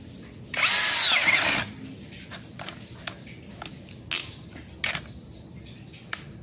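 A Zhipu 16V brushless cordless drill with a 24 mm spade bit whirs loudly at speed setting 2 for about a second, then stops; scattered clicks and taps follow in the quiet afterward.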